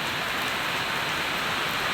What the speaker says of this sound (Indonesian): Disambut dengan rahmat Allah Subhanahu wa Ta'ala pagi ini, diparingi hujan deras